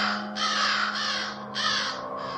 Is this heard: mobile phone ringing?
no